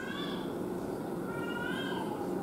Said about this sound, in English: She's meowing in the garage.